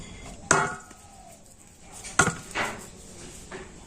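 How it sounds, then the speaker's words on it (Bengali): A knife cuts white rice-flour dough into portions for phool pitha, giving two sharp, close taps on a hard surface about two seconds apart, followed by softer clicks, with a quiet background between them. "তো এটা দিয়ে আমি একটু লেচি কেটে নেব"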